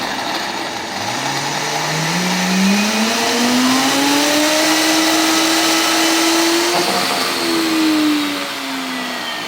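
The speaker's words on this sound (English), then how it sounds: "it has to be enough to keep it going on the high-speed blender." A high-speed blender whirs through chickpeas for hummus, its motor pitch climbing steadily to a loud sustained whine, dipping briefly and settling before easing off near the end, with no talk.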